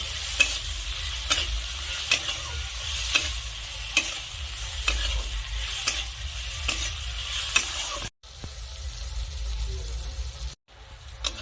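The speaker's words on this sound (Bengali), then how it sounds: "এখন আমি সব কিছু একসাথে নেড়ে চেড়ে মিশিয়ে খুব ভালো করে কষে নেব।" Spices, including salt, turmeric and Kashmiri red chilli powder, are stirred and fried with bata fish in a pan: a regular rhythm of scraping strokes about once a second over a low, steady sizzle, broken by two brief silent gaps.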